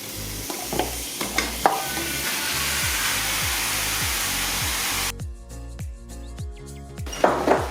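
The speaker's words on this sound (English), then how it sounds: "it's time for us to add this to our sauteed onions and garlic" Seasoning added to sautéed onions and garlic in a hot pan for lasagna, hissing loudly in a broad sizzle with stirring scrapes, then the sizzle drops away to softer crackles and clinks.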